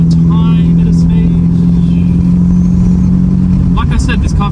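A 2006 BMW E90 320i sedan on coilovers takes a sharp little bend, its steady mid-pitched engine drone loud and close inside the cabin while a voice talks over it.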